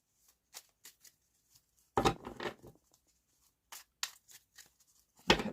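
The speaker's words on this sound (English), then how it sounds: "Okay, they're well and truly shuffled." A deck of playing cards being shuffled in short riffling bursts separated by quiet gaps, close and fairly soft, with no voices.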